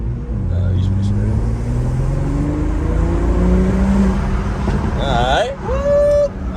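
A BMW 340 accelerates hard, its engine note climbing through gears in rising sweeps, loud and close from inside the car, with excited voices talking over it near the end.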